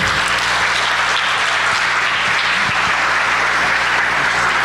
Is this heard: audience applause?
yes